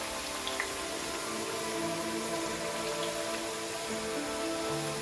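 Homestyle potato chips bubble in hot oil as a low, even frying hiss that runs without a break, with faint stirring and no voices.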